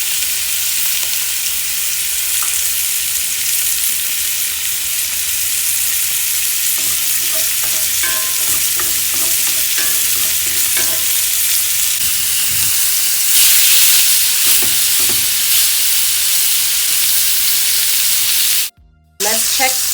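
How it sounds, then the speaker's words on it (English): Pork tenderloin sears in a hot skillet, likely with butter, garlic and herbs, giving a steady, close, bright sizzle and hiss that runs unbroken for the whole stretch apart from a brief cut near the end. "that sizzle right there is definitely the indicator that your meat is going to be searing perfectly"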